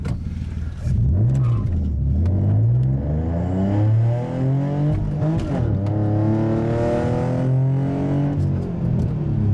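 A tuned 2005 Infiniti G35 Coupe engine, set to redline at 7,000 RPM, accelerates hard: a loud, close engine note climbs in pitch, drops at each gear change and climbs again.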